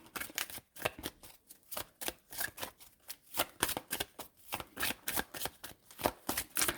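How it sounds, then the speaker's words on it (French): Tarot cards being shuffled by hand in quick repeated riffles and flicks, a close, crisp series of papery bursts in an uneven rhythm with no talking. "je prendrai une carte pour tout le monde. Je vais faire qu'un seul mélange."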